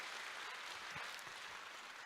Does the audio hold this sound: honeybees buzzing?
no